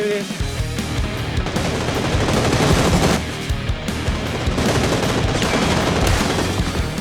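Gunfire rattles almost nonstop in a multiplayer shooting game, dense automatic bursts with scattered single shots, loud and close throughout.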